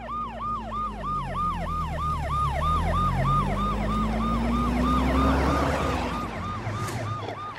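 A police vehicle's siren wails in fast, repeated rising-and-falling sweeps over a low engine rumble, loud and close, then fades as the vehicle passes, with no speech.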